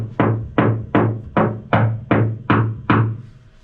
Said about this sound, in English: It's a very loud, echoing knock.